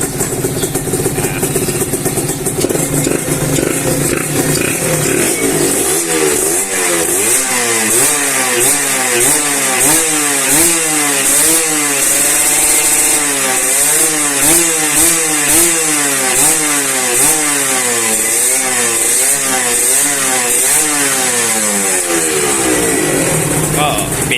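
Honda NSR two-stroke motorcycle engine, loud and close, starting with a harsh raspy buzz then repeatedly revving up and down in rapid rising and falling sweeps, ringing and crackly throughout.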